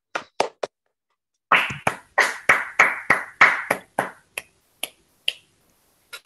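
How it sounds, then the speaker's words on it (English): A few individual claps and snaps come from participants unmuting in an online mathematics lecture. The sharp, isolated hits are loosely spaced and arrive in a short uneven burst after a brief gap of silence. "give the speaker a very generous round of applause"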